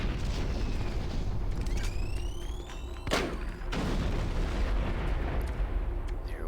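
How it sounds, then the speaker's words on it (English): Hand grenades explode in Doom 3, a loud booming blast at the center with rumbling, crackling combat noise before and after. "Let's use a couple hand grenades if we can."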